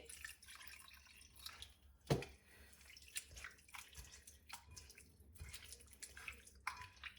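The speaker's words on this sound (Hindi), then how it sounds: "यहाँ पे 1 कप पानी का ऐड करेंगे।" A cup of water is poured into a rice and bread mixture, giving soft, fairly faint splashing and dripping for several seconds with one sharper splash early on.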